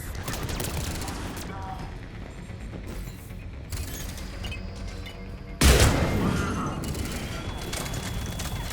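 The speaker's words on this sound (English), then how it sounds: "I'm just gonna body the explosion." Explosion in the Mass Effect video game: a sudden heavy boom bursts out over a dense, continuous rumble of gunfire and battle noise, then fades back into the steady combat din.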